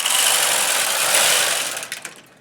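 A knitting machine carriage sweeps a row to the left, a continuous bright whirring rattle that holds steady and then trails off into a few clicks as the carriage reaches the end.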